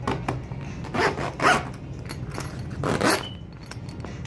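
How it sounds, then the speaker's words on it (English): A double zipper on a grow tent is pulled in a few quick, rasping strokes, close by, with short pauses between runs and faint jangling. "It has a double zipper on it"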